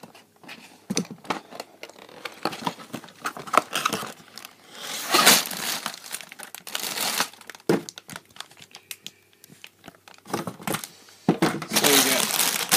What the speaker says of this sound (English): let's get it open. Try not to cut the box.